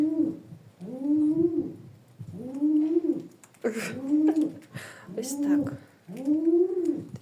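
Pigeons coo in a steady series of low, rolling, throaty calls, close and fairly loud, with brief pauses between them.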